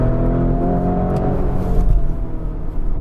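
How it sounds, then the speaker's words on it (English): Lamborghini Urus 650 hp SUV engine running at steady high revs, a loud, dense low rumble holding for about three seconds with a slight rise in intensity near the end. "That was typical Lamborghini sound."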